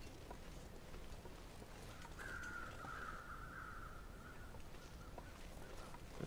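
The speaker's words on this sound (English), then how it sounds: "Okay, I hear 2 crows." Two crows caw at a distance in a snowy wilderness in The Long Dark, one steady caw stretching across the middle of a quiet, faint outdoor ambience.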